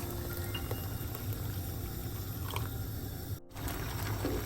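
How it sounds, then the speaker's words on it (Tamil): Hot water is poured into a pot of boiling vegetable and rice porridge, giving a steady close bubbling and pouring wash with a brief dip partway through, and no voices. "இந்த கஞ்சி அவிகிறதுக்கு இன்னும் கொஞ்சம் தண்ணி சேர்த்து விடுவான் சுடு தண்ணி"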